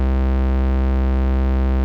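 A synth tone runs through the P565 Siren distortion plugin set to 100% wet, producing a loud, steady buzzing drone rich in stacked harmonics that holds unchanged without any voice.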